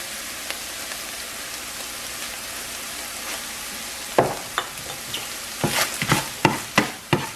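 Seasoning salt, garlic powder and pepper being stirred in a sizzling frying pan, a soft steady sizzle followed by a series of sharp scraping stirs near the end.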